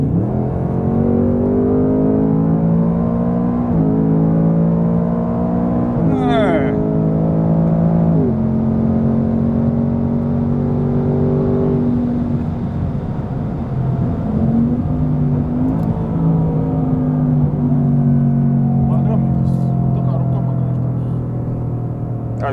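A Ford Mustang Dark Horse, around 500 horsepower, accelerating hard on a race track, its engine climbing through several gear changes in a loud, steady roar that rises and drops with each shift.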